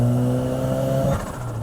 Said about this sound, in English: that's compressor surge